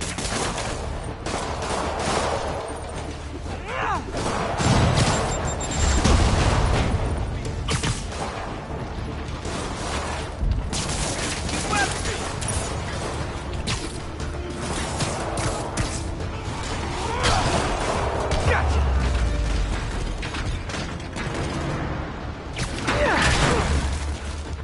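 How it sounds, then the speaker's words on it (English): Rockets fired during combat in the Spider-Man PS4 game: dense, continuous mechanical clatter and repeated booming blasts that swell several times, loud throughout, with faint talk mixed in. "More rockets?"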